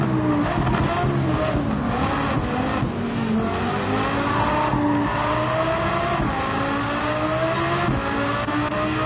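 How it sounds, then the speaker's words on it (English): Race car engines in Gran Turismo 7 at the Nürburgring Nordschleife, one car howling loud and close behind another, revs rising and dropping through shifts with occasional tire squeal, continuous throughout. "Listen to that engine right behind me right there."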